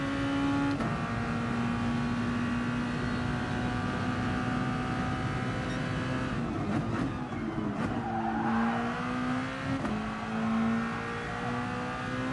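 A race car engine in a racing video game at Monza rises and falls as the throttle goes on and off, loud and continuous, with brief tire squeal and downshift blips.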